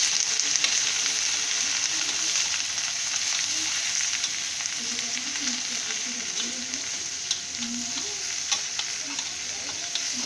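Spices sizzle in oil in a pan as they are stirred for a festive thali, a steady frying hiss with faint scraping stir sounds throughout, fairly quiet and close, with no talking.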